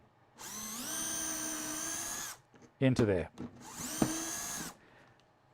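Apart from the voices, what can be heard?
power drill drilling a hole through Parf Guide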